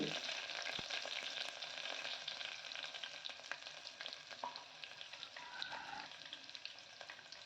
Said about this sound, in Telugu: ఆనియన్స్ బ్రౌన్ కలర్ వచ్చేంత వరకు వేయించుకోవాలి